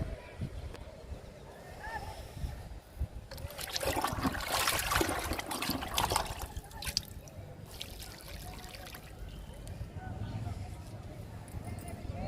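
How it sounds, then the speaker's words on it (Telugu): Kitchen-waste liquid is poured onto a moringa plant in a garden, making a soft splashing trickle that swells midway and then tapers, while a person talks over it. "మునగ మొక్కకి ఇస్తున్నా లిక్విడ్"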